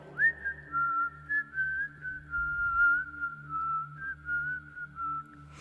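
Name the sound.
person whistling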